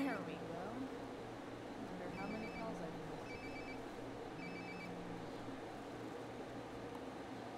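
A cellphone rings in the video game Life Is Strange: Before the Storm, its short electronic ring bursts repeating at a steady pace over a constant hum of game ambience.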